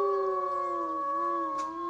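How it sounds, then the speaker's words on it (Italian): A steady wolf howl in a fairy-tale forest setting, several sustained tonal harmonics holding level for about two seconds, fairly loud and alone with no talk. "Sembrerebbero ululati."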